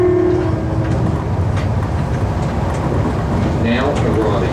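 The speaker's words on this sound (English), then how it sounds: "We're now about to go over the rail overpass over the South Road." A suburban passenger train in Adelaide crossing a rail overpass above South Road, a loud steady rumble and rattle of wheels on track, with a voice speaking and a brief tonal squeal near the end.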